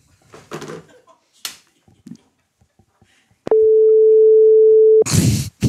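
A telephone tone connecting a call on a live radio show, one steady held beep lasting about a second and a half, after scattered speech and before a loud burst of voice.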